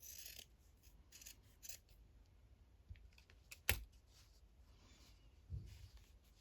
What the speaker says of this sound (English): I'm just going to cut this one off